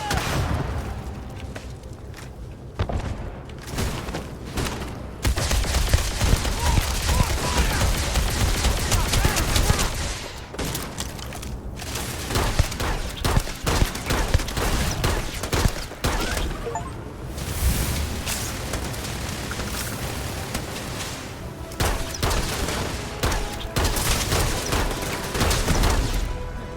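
Sustained gunfire rattles through a Starfield combat firefight, dense bursts of automatic weapons and sharp individual shots overlapping almost without pause, with heavier booming impacts and brief lulls between volleys, all loud and close.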